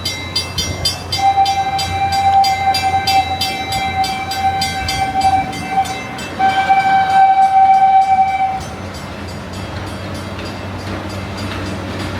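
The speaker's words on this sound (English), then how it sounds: "There's a train, which makes sense because it's a train track." A train horn sounds in long sustained blasts at a railway crossing over the rumble of passing rail cars, then fades, leaving a steady low rolling noise.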